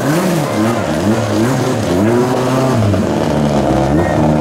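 A rally car at the ceremonial start of Rally Bulgaria 2017 idles close by and is revved in repeated rising and falling bursts. The engine note is loud and continuous, with no talk.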